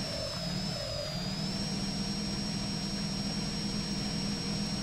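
Truck engine in SpinTires mud-driving simulation, a Chevy Duramax or 2017 Dodge Ram pushing through deep water with the hood submerged, giving a steady low droning rumble with a constant high whine on top, continuous and close.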